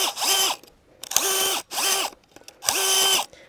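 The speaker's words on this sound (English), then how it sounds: "So I kind of use my auger in a mixer form, kind of like a mixer." Handheld power auger churning soil while digging a planting hole for a ninebark shrub, four loud motor bursts that rise, hold steady and wind down, separated by short pauses, with no talking.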